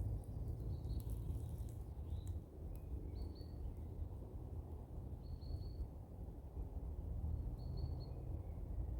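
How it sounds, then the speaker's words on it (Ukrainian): Faint, brief nightingale chirps recur every second or two over a steady low outdoor rumble in a spring forest, distant and thin against the background. "Віть-віть-віть, соловейко каже."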